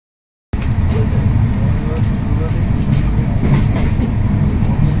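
Shatabdi Express passenger train running at speed on an early-morning departure from NJP, a loud continuous onboard rumble with rhythmic rattling that starts abruptly and stays steady to the end.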